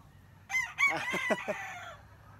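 A single Boston Roundhead rooster crow, close and clear, rising then trailing off over about a second and a half against a quiet background.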